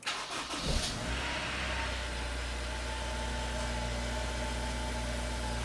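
A Honda S2000 engine cranks briefly, catches with a quick rev, then settles into a steady, even idle that holds at moderate loudness from close by.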